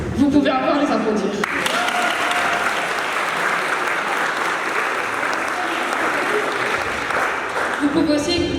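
An audience applauds project presenters at a presentation, steady crowd clapping that swells in after a short spoken lead-in and holds evenly for several seconds before a voice resumes near the end.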